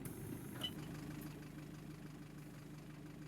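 A London Citybus Enviro200 bus with a ZF gearbox, simulated in OMSI 2, idles with a steady low engine hum and faint mechanical rattle, alone and unchanging.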